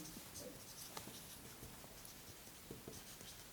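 Chalk or marker strokes on a board during a chemistry lecture, faint scratchy taps and short strokes in irregular bursts over a quiet room hiss.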